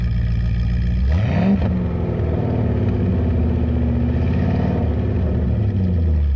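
The 4.5 litre V8 of a 1979 Porsche 928 rumbles steadily close by, with a brief rev that rises in pitch before settling back into a low, continuous drone.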